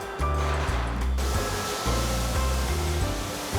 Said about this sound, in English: The bars pass through a literal waterfall of chocolate.